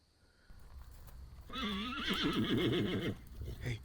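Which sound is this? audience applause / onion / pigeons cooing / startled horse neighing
startled horse neighing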